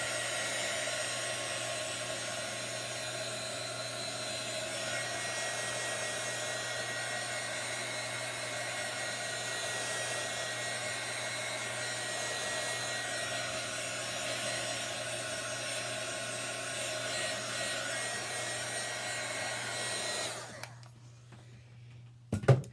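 A hair-dryer-style heat tool blasts hot air steadily onto chalk paste on a craft banner, a loud constant whir that runs on for about twenty seconds and then cuts off abruptly.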